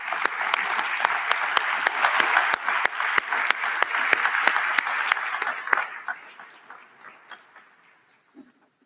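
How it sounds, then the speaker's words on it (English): Audience applause at a policy conference for Professor Pellet, a room of clapping with sharp individual claps standing out, tapering to a few last claps and near silence toward the end. "a warm round of applause"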